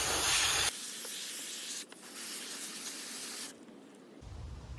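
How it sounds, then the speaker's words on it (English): A garden hose sprays water onto a reusable AEM Dryflow air filter, giving a close, steady hiss that stops and restarts in several bursts with a short break near the end. No talk is heard. "so we're just gonna use our hose for a little water pressure"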